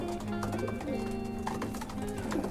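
Pigeons coo steadily in low, rolling calls, several birds overlapping continuously inside a loft, with faint rustling and chirps around them.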